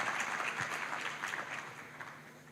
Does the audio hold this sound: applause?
yes